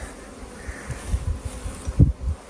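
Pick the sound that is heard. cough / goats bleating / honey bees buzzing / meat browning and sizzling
honey bees buzzing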